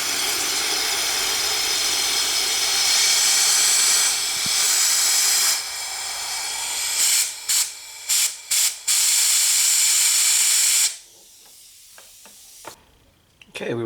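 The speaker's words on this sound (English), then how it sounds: "We'll just blow a little bit of compressed air in there, make sure everything's nice and clean." A compressed-air nozzle blows through the fuel passages of a 2002 Honda Magna carburetor during cleaning, giving a loud continuous hiss and then several short sharp bursts before the air cuts off.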